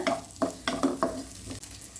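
Onions sizzle in hot oil as a utensil scrapes and stirs the pan in several quick, uneven strokes.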